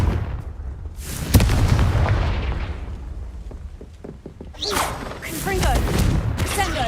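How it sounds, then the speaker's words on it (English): Confringo fire-blast spell cast in the Hogwarts Legacy video game, a sharp booming burst near the start followed by a rumbling tail, with further crackling magical impacts and whooshes later. "Confringo."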